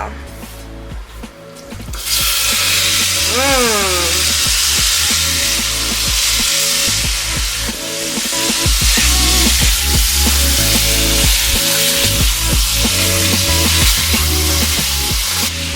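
Pork frying in a pan of oil reused from cooking black bean sauce for jajangmyeon, a loud, steady sizzle starting after two seconds and running throughout, with clatter from stirring and a voice talking over it.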